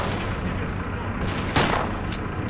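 Distant gunfire from Stalker Clear Sky, mostly a low rumble of shots under game ambience, with one brighter, louder burst about two-thirds of the way in; a voice speaks faintly underneath.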